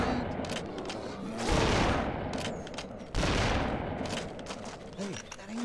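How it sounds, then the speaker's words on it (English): Rapid machine gun fire rattles from a hunting video game set in southeastern Alaska, loud and sustained bursts with brief breaks, a dense continuous crackle filling the whole stretch. "kind of machine gun you're firing."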